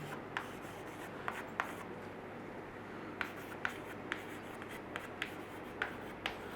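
Pen or marker strokes writing out a chemistry definition on a board, a quiet scratching texture with small taps and short scrapes at an uneven rhythm, close but soft, with no one talking.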